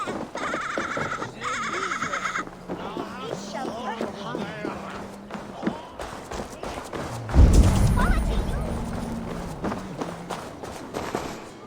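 Goats bleat in a wintry village in the video game Assassin's Creed Valhalla, several short wavering calls early on, mixed with footsteps and game ambience, then a louder burst of movement and rumble later.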